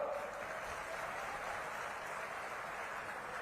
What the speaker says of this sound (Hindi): ताली भी बजा दो।